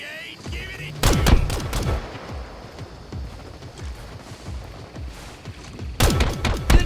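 Gunfire in the video game La Quimera, with a sharp volley early, sparse shots through the middle and another dense burst of rapid fire at the end, a voice faintly in the mix.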